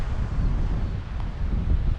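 Strong coastal wind at Dirk Hartog Island, Western Australia, buffets the microphone with a low, continuous rumble, gusting unevenly throughout.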